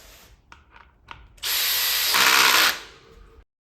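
A power drill tightens a bolt on a trolley wheel, first a few short clicks and ratchety bursts, then a loud, close whirring run of about two seconds that stops abruptly.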